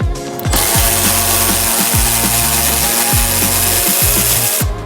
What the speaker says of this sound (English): It's a good day to have a power ratchet.